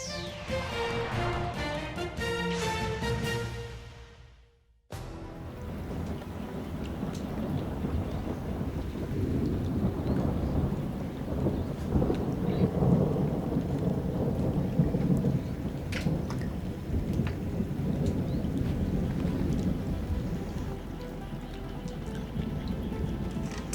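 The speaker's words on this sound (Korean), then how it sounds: "갑자기 천둥 치고 번개 치더니 비보다도 막 돌풍이 불어서 바람이 막 바뀝니다" A sudden thunderstorm with gusting wind hits an outdoor fishing pond: after a brief musical snippet, steady heavy rain roars loudly throughout, with deep thunder rumbling underneath and no speech.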